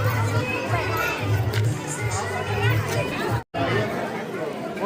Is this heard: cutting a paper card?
no